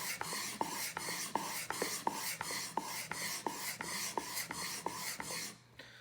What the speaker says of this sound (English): I pinch the tip of the knife, the toe of the knife, just to, again, make sure that the entire knife is on the stone at all times